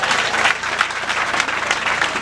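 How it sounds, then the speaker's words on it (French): A crowd at an outdoor political rally in Angondjé applauds loudly and steadily, a thick wash of hands with no voices rising above it. "On applaudit très fort pour moi."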